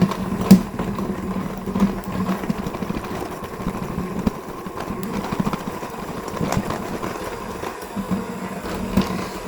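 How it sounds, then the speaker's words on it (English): Electric hand mixer whirring through crumbly dairy-free maple butter tart dough, a steady buzzing motor hum with rattling, scraping texture as the beaters churn the mix, running continuously without pause. "I'm actually going to use my hand mixer for this"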